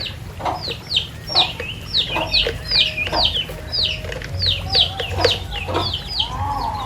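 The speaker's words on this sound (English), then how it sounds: "Chicken." Chickens cluck in a farmyard with a run of short, sharp, repeated calls close by, over a low, steady background rumble.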